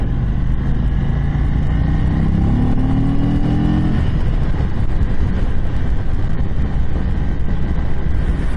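A 2022 Indian Chief motorcycle engine drones loud and steady while riding, with wind rushing over it and a brief rising tone early on, no talking.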